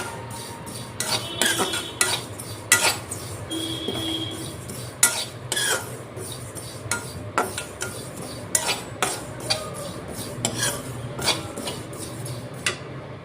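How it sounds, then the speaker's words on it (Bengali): Sesame seeds dry-roasting in a karai while being stirred, giving a steady run of close scraping and clinking strokes against the metal pan over a low background hiss. "প্রথমে দিয়ে দিলাম কারাই, তিলটা ভাইজা নিমু অল্প। তিলটা ভালো করে ভাইজা নিমু।"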